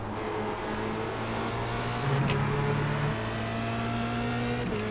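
A Formula Renault 2.0 race car engine in the iRacing simulator holds a steady high drone with layered tonal whine, a brief shift in pitch midway, continuous and prominent throughout with no talking.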